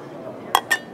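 Enamelware plates and cups clinking as they are handled at a trade-show display, two sharp, bright clicks in quick succession, close and distinct over a faint room hum.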